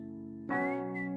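A whistled melody line in a song recording enters after a held tone and continues as a sustained bright whistle over the music.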